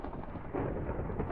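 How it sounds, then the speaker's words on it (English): A low, rumbling thunder roll from lightning in a Minecraft Luigi's Mansion map, a dull sustained boom lasting about a second and a half with no voices over it. "Lightning."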